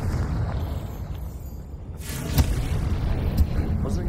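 Confringo fire spell explosion in Hogwarts Legacy on PS5, a deep booming burst that rises from steady game ambience around the midpoint, followed by a couple of sharp thuds, moderately loud with no talking.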